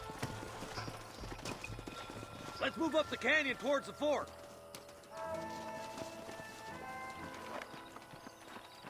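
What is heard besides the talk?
horses' hooves clip-clopping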